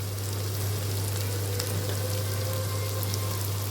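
Turmeric, salt and chili powder frying in a pan for a curry, giving a dense steady sizzle with a constant low hum underneath, close and unbroken throughout, no voices.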